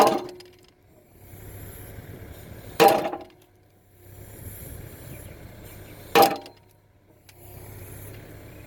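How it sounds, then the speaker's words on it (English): A skid steer bucket pounds an orchard post into the ground for high density apple trees, two sharp heavy thuds several seconds apart over a low idling engine hum. "he just drops the bucket on there real soft and tries to beat it in a little more"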